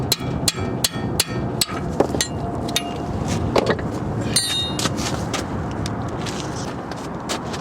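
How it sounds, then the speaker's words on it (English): A hammer taps the retaining screws of a rear brake rotor on a Nissan Maxima, giving a steady series of sharp metallic knocks close up, with a faint workshop hum behind and no talking. "what I like to do is tap them down with the hammer"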